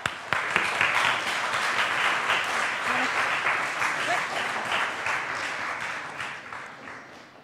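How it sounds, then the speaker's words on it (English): An audience applauds two speakers at a careers-in-video-games talk. The clapping is crisp and dense, starts abruptly, then slowly thins and fades, with faint talk underneath. "Big round of applause."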